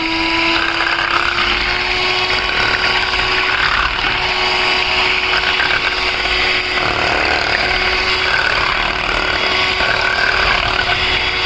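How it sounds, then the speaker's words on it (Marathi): Yogurt and gram-flour batter with added water is beaten for kadhi, a loud, constant mechanical whirring and rattling that runs steadily without pause from start to finish. "पाणी ॲड करून आपल्याला ते फेटायचं आहे।"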